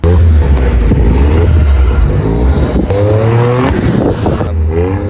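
A modified Toyota with an HKS turbo-back exhaust revving loudly, its engine note rising and falling through repeated throttle blips and gear changes, close and continuous throughout.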